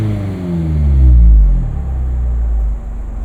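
A Mazda MX-5 Miata ND3 engine revving, a deep rising and falling engine note with a swelling rumble that peaks and eases back, heard loud and close.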